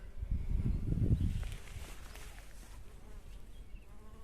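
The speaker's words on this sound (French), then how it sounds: "elle attire les abeilles" Low buzzing swells up for about a second, then fades into a quiet outdoor background with faint rustling.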